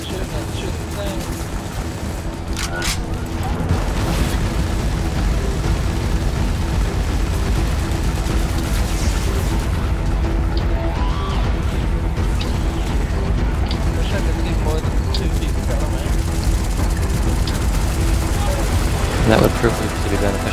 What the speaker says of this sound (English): They're shooting at the thing.